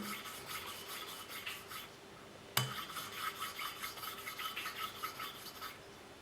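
Steady gritty rubbing and rasping of valve lapping with grinding compound on a 1983 Kawasaki 750 LTD engine, rhythmic back-and-forth strokes continuing throughout, close and moderately loud, with one sharp click partway.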